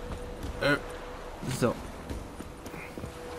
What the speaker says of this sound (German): Das ist ein bisschen schwierig dann mit dem Pferd dahin zu kommen.